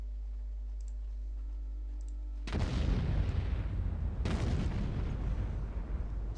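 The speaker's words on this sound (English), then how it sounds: "that sounded like a big explosion" A big explosion in the war strategy game Sudden Strike 2 bursts in loudly after a quiet hum, rumbling on, then a second heavy blast follows and roars to the end.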